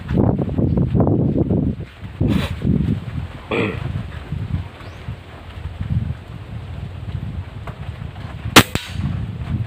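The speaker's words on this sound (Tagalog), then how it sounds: "Napakasarap putok." A single sharp crack of a Taurus PCP sidelever air rifle shot rings out near the end, over a background of wind rumble and faint rustling.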